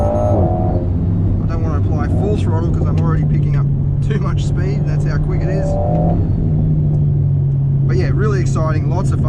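A 2019 Alpine A110 sports car drives downhill through corners on a rough road, its engine a loud, steady drone heard from inside the cabin beneath continuous talking.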